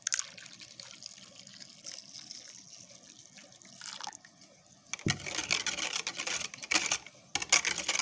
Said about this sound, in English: I'm going to pour the hot water.